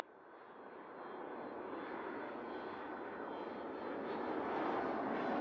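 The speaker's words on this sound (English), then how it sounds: "Runway 31, cleared for takeoff." An airliner's engines roar during a takeoff in the game Mini Airways, a broad steady rush that grows gradually louder over a few seconds with no voices.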